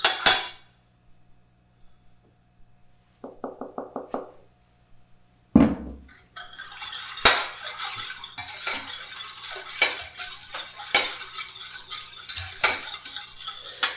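Sugar poured and stirred into covered saffron-infused milk for a Fribourg cuchaule, with small clinks and a brief knock, then a sustained scraping and rustling of stirring that rises and continues near and moderately loud.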